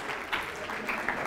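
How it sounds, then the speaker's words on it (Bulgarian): Brief burst of audience applause at a software testing conference closing ceremony for a prize winner, steady dense clapping at moderate distance. "Аплодисменти за Невен Динев."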